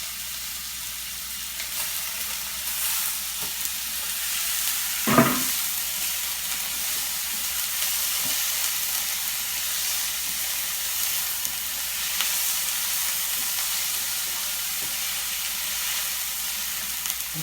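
Garlic sizzling in a frying pan, a steady hissing fry with occasional scrapes and stirring from a spatula, close by with no talking.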